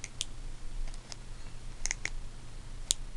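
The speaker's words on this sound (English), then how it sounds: "I don't know if you can hear that clicking or not." A homemade BMX hub gives off a few sparse, light ticking clicks, close but faint, scattered irregularly over a quiet background.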